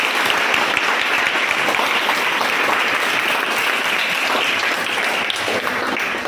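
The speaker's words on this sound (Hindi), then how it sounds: "जोरदार ताली बजाओ S4 की।" Sustained applause from an audience at the grand opening of a tuition center in Jagatpura, Jaipur: dense, steady clapping fills the whole stretch at a loud, even level with no talk over it.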